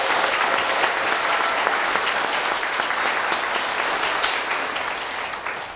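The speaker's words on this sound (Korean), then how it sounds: "우리 안희정 도지사님 충남의 새로운 변화를 이끌고 계신데 그런 의미에서 큰 환영의 박수" A sustained, dense round of clapping from a community talk show audience in South Chungcheong welcoming the provincial governor, loud and steady before easing slightly at the end.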